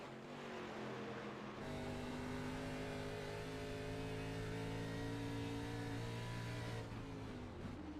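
Onboard a race car at Rockingham Speedway during a Thursday Night Thunder race, the engine is held hard on the gas. A loud, sustained roar climbs in pitch, steadies into a continuous drone, then drops briefly near the end.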